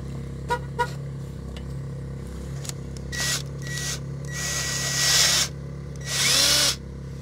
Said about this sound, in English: I'm going to take this so I can drill on the other side.